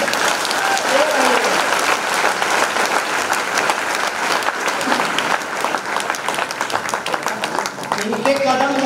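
Audience in a training hall clapping continuously, dense and loud throughout, with voices faintly audible over the applause near the end.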